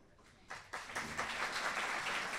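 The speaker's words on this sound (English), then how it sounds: "If you could stand up and please give them a round of applause." An audience at an internal medicine residency graduation starts clapping for program staff. A few scattered claps quickly swell into steady, moderate applause that carries on to the end, heard from a little distance.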